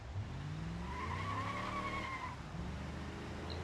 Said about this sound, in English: I think I popped the tire on the truck.